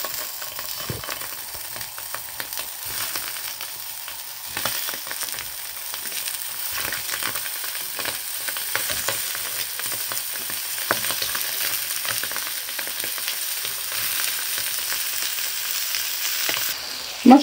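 Sausage sizzling in hot oil in a small frying pan, a steady loud crackle and spatter that runs throughout with occasional clinks of stirring and no voices.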